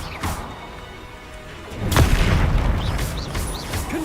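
A Confringo fire spell bursts with a heavy booming blast in Hogwarts Legacy, the impact swelling loud around two seconds and rumbling on amid faint whooshing spell effects.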